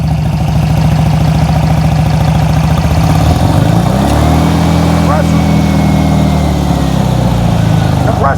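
A 1972 VW Beetle with dual carburetors idles loud and close, a steady low chugging that shifts in pitch midway as the air conditioning compressor cycles, with a voice talking over it.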